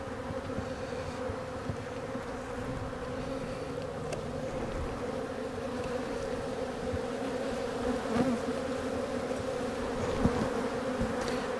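A dense, continuous drone of aggressive honey bees swarming around an open hive, steady and close with a low humming tone layered under brighter wingbeat buzz, no voices present.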